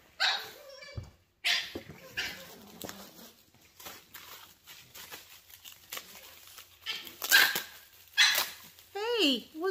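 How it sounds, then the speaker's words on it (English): Puppies play together, letting out high, bright yips and short barks in irregular bursts close by, with scuffling patter between the calls. "They're playing. I'm sorry, but puppies are cute, and they even sound cute."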